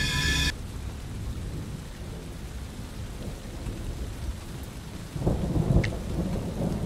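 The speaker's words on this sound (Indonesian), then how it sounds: "Ia kesulitan mencari sumber suara itu karena bercampur dengan suara gerimis di luar." Steady rain patters outside through a horror cartoon scene, a soft continuous hiss with a brief tonal sound at the start and a low rumble swelling near the end.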